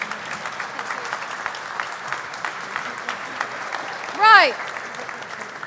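Audience applause at a tech industry breakfast panel: steady, moderate clapping from a crowd runs throughout, with a brief whistle near the end and one spoken word.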